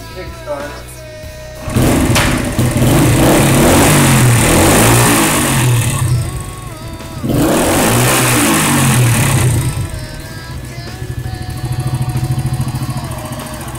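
A loud 100cc motorcycle engine, kickstarted and then revved hard twice with a rising roar, dropping back to a chugging idle between revs, close by.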